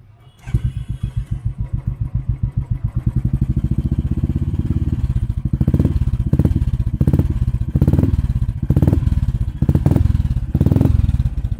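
A Royal Enfield Classic 350 fitted with a Dolphin Premium exhaust starts up and settles into a loud, close, steady thumping idle, punctuated by several sharper revs that swell and fall back.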